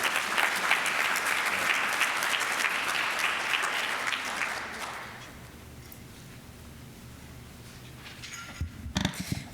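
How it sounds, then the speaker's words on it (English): Audience at a Rotary club meeting breaks into a loud round of applause for two honorees that fades after about five seconds, leaving quiet room tone before brief rustling and knocks near the end. "And let's have one more round of applause for Liam and Charlie."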